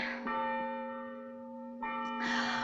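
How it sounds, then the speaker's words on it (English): A church bell's ringing tone hums and slowly fades, struck again near the end with a bright, resonant clang; no voices. "Oh, stop ringing those bells."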